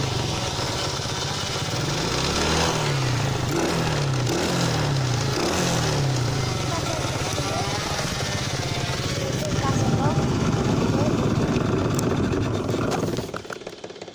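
A quad bike engine drones loudly and steadily nearby, its pitch wavering as it revs, with voices talking over the engine noise.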